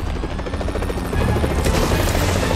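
A helicopter in Marvel's Spider-Man video game thrums with a loud, continuous rotor chop and engine drone that swells a little louder partway through, with no voices over it.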